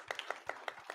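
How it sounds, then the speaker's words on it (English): A small crowd at a political campaign event claps in a brief burst of sharp, quick claps, fairly faint and close together. "That does need applauded."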